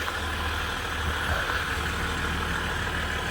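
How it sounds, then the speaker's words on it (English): A 2021 Jeep Gladiator 4x4 diesel engine idles steadily up close, a deep, even low rumble with a constant mechanical drone that runs unbroken for the whole stretch, no voices over it. "I do love the big rig sound, though."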